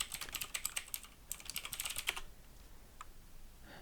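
Close keystrokes on a computer keyboard while someone types code, a quick irregular burst of clicks that stops partway, then a few isolated taps in a quiet room.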